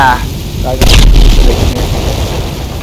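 Explosions and burning from a fire and firecrackers in GTA 5, a loud booming burst followed by crackling rumble, with someone talking over it.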